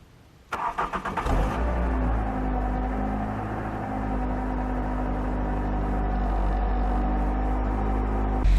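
A car engine cranks briefly, catches, and settles into a steady, low idle that continues uninterrupted.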